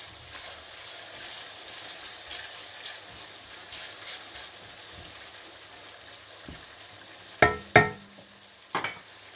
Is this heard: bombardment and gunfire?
no